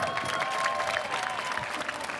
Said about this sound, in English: Big applause for Argentina.